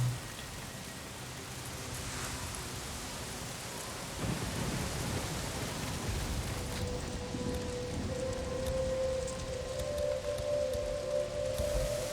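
Rain falls steadily in the game Days Gone, a continuous hiss of drops on surfaces with low rumbles beneath, growing slightly heavier partway through, with no talk.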